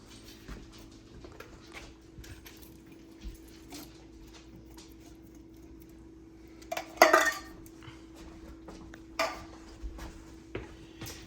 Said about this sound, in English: And we stir that around.